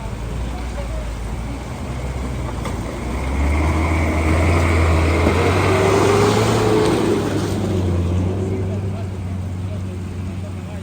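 A car reverses on a rough mountain road toward Chitral and Shandur, its engine rumbling low and close, swelling louder in the middle and then easing back, with someone talking over it.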